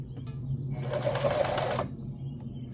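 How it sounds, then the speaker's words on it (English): A sewing machine backstitches the corners of a ribbon tutu in one short, steady whir lasting about a second, moderately loud and close, with a low hum before and after. "I'm backstitching all the corners I do."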